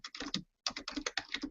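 Fingers tap a computer keyboard in two quick bursts of clicky keystrokes with a short pause between, close and fairly quiet in an indoor room, with no talking.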